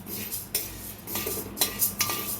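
Roasted sago is stirred in a hot kadai after the flame is turned off. A utensil scrapes and clinks against the metal in a few sharp bursts, close and with no voices.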